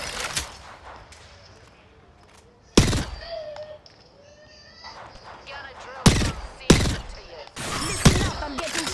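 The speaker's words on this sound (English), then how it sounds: "I'm getting shot at" Gunfire in the Apex Legends battle royale game, a few sharp loud cracks and short bursts breaking over quieter game noise, with a voice talking underneath.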